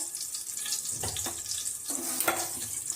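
Cauliflower and peas sizzling softly in a pan, a steady low crackle with a couple of stirring scrapes near the middle and again toward the end.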